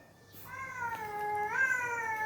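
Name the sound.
cat meowing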